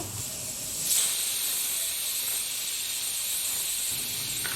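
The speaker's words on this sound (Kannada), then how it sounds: "ಈ ಕುಕ್ಕರ್ ಮುಚ್ಚಳ ಮುಚ್ಚಿ ಇದನ್ನು ಮೂರು ವಿಜಿಲ್ ಬರೋವರೆಗೂ ಇದನ್ನು ಕೂಗಿಸ್ಕೋಬೇಕು" A pressure cooker holding tomato dal lets out a steady, loud steam whistle that holds for several seconds at an even level, with no voices over it.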